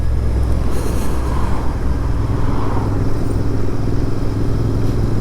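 Royal Enfield Interceptor 650 motorcycle ridden on a road home from a reservoir, giving a steady loud engine drone mixed with road and wind rumble that stays constant throughout.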